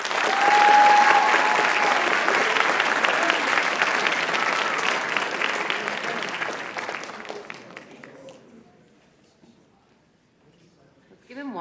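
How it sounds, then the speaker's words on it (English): Audience applause after a student reading at a school writers expo, loud sustained clapping that gradually tapers off and dies to near silence, followed by a brief voice at the very end. "Give him one more quick round of applause."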